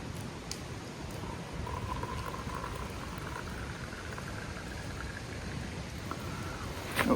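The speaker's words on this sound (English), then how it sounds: "And now we fill this with hot water." Hot water poured from a lightweight kettle onto coffee grounds outdoors in the woods, a steady soft splashing trickle lasting several seconds, fairly faint and unaccompanied by talk.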